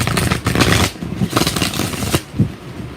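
Tarot cards are riffled and shuffled in quick bursts of close, crisp flapping and rattling during a live reading session, loud and without talk.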